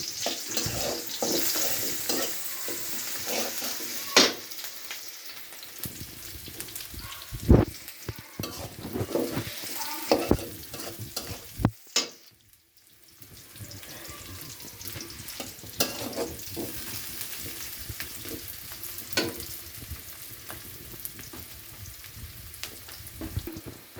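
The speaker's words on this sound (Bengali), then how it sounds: "পেঁয়াজটা আদা ভাজা হয়ে গেছে" Chopped onion and ginger fry in a pan with a continuous close sizzle, broken by repeated scraping stirs and clatters of a spatula for about twenty-four seconds, with no talking.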